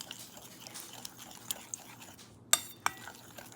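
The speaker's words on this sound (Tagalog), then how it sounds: "we will add just a little bit of condensed milk, and then mix it well" A spoon stirring creamer and condensed milk together in a container, giving scattered light clinks against the side, with a couple of sharper taps near the end over a quiet background.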